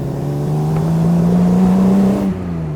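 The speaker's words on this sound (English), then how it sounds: "The sound from the straight six engines just" Loud, close straight-six engine revving in a race-derived RAM D-Type replica with Weber carburettors, rising then falling pitch, a smooth multi-cylinder growl that drops off sharply at the end.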